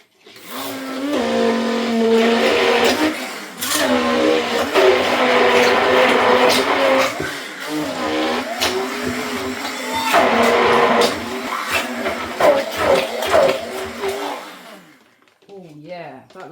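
An electric mixer whirs steadily through a lemon mascarpone cheesecake filling with lemon zest, its motor pitch wavering and rising as the load shifts, then cutting out near the end.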